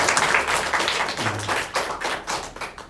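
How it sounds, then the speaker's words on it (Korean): A church congregation applauds during a Sunday service to welcome newcomers. The clapping is dense and steady from many hands, fairly close, and lasts the whole stretch. "박수로 환영하도록 하겠습니다."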